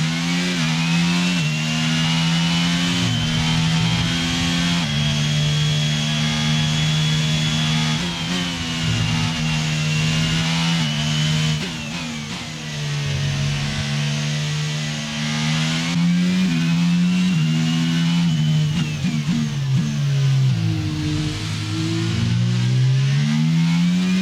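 A Formula 1 car's engine drones at low revs in F1 22 on the Hungarian Grand Prix circuit, held in too high a gear, a loud steady buzzing tone that rises and dips gently over a long stretch with no speech.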